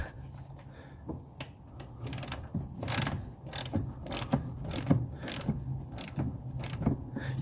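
A hand ratchet clicks steadily while snugging oil filter housing bolts in an engine compartment, a close, even run of ratcheting over several seconds with no talking.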